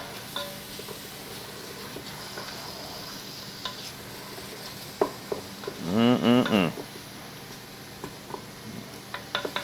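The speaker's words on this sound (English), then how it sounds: "Make sure you get those onions a good stir every once in a while." Onions and hamburger meat frying in a Ninja Foodi with a steady low sizzle, and a short burst of stirring scrapes around the middle, then scattered light utensil clicks against the pot.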